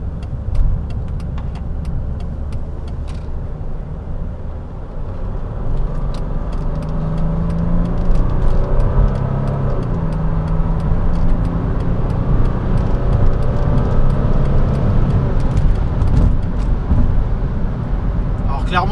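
A 2005 Mercedes C320 CDI estate with a 7G-Tronic automatic gearbox accelerates from inside the cabin, its diesel engine droning louder and rising in pitch through gear changes, with occasional clicks.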